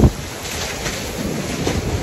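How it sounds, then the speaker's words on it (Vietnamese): Wind gusts through a backyard garden in Houston during cold weather, making a steady, rushing outdoor roar that swells slightly near the end, with no other clear sound. "Mọi người nghe tiếng gió không?"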